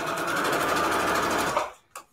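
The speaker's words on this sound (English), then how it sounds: "I am going to straight stitch, and I'm just going to use default settings so it will be a very short stitch" A sewing machine runs a short straight stitch through fabric in one fast, even, whirring burst of about a second and a half, then stops, leaving a couple of faint clicks.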